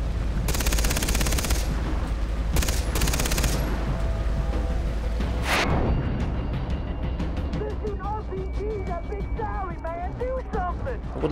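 Bursts of rapid gunfire in the Far Cry 3 video game, loud automatic volleys in the first half then fading to scattered echoes and birdlike chirps.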